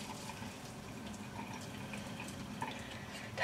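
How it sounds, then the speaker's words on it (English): Water is tipped out of a pan, giving a steady, fairly faint splashing pour that runs for a few seconds on its own. "The water out of the pan."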